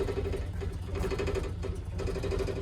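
A Ford Galaxie engine idles in a busy shop, a steady close rhythmic chug with a pulsing tone and no talking.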